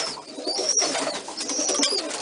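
Pet pigeons or doves coo softly inside a coop, close by and steady, mixed with a few faint higher chirps and light rustling.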